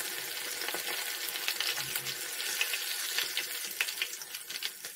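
A steady crackling sizzle of tofu frying in hot oil continues throughout, close and even, with small pops scattered across it.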